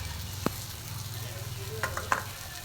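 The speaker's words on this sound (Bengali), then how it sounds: "আমার কিন্তু একদম ভাজা ভাজা হয়ে গেছে পেঁয়াজের সাথে আমটা।" Mango pieces and onion fry in a pan while a spatula stirs them, with a few distinct scrapes and taps over a soft, continuous sizzle, fairly quiet and without speech.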